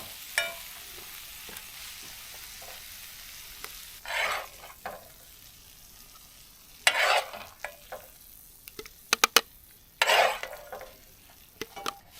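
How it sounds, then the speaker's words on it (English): Tomatillos, onion and garlic gently sweating in a pan at an outdoor camp kitchen, a low quiet sizzle broken by several short bursts of stirring and scraping against the pan. "So I'm just trying to cook those tomatillos down without really putting any color on the onion or garlic."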